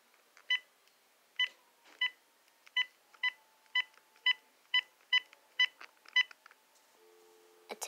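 Telephone keypad tones beep ten times in a steady, evenly spaced sequence, each short and crisp against a quiet background, followed by a faint low tone as the call begins to connect.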